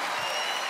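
Audience applause at a 2021 World Tour concert: a dense, steady wash of many hands clapping that fills the whole short moment without a break.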